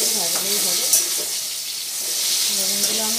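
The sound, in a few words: eggplant frying in oil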